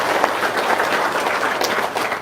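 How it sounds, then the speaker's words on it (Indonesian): Short burst of audience clapping during a talk about a stone mortar and pestle, steady and moderately loud for a couple of seconds with no voices over it. "Tepuk tangan dong."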